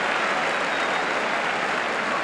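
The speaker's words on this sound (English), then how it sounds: "But applause all around Highbury" Steady, dense applause from a football crowd fills Highbury stadium, an unbroken wash of clapping with no pauses.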